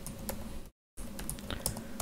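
Quiet keystrokes at a computer keyboard as a login ID and password are typed, brisk irregular clicks close by, cut by a brief silent gap.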